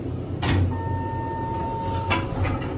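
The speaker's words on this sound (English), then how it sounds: "The door should open." A 1930s automatic Otis traction elevator door slides open in the Waldorf Towers Hotel, a steady mechanical rumble with a sustained tonal whine and a couple of clunks.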